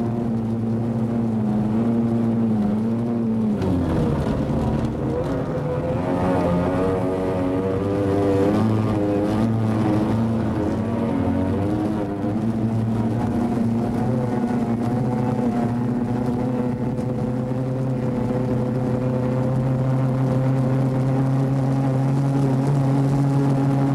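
A high-octane racing powerboat engine runs continuously, a loud close droning roar with strong low tones that climb briefly in pitch early on, then settle into a steady sustained hum with no speech.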